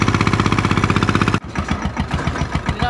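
A tractor engine chugs loudly up close with a steady, fast rhythmic pulse, then the tone abruptly shifts to a looser, lower thumping beat partway through.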